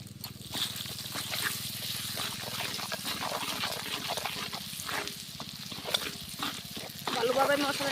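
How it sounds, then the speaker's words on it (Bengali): Mustard paste and spices frying in plenty of oil for a sweet-sour olive pickle, sizzling and bubbling steadily while a spoon stirs and scrapes the pan in repeated strokes, close and continuous. "ভালোভাবে মশলাটাকে কষিয়ে নেব"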